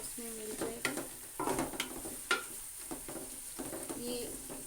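Keema with peas frying in a pan, a steady close sizzle broken by repeated scraping and stirring strokes of a spoon against the metal, with a couple of clinks.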